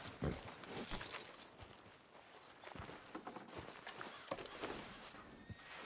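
Hooves clip-clop steadily as a horse walks in Red Dead Redemption 2, a close, uneven trotting rhythm of repeated hoof strikes over ambient game sound, with no talk.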